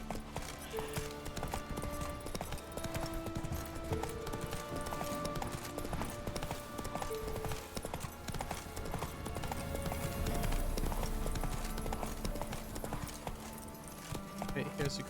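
Horse hooves clip-clop steadily as a rider travels in the video game The Witcher, a rhythmic trot under game music with people talking over it.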